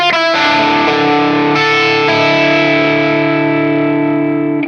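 A loud, distorted electric guitar on its bridge pickup sounds chords that ring out and sustain with reverb and delay, each note distinct, fading at the end.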